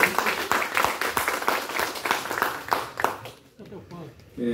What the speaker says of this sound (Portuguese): Vamos receber o Paulo com a salva de palmas.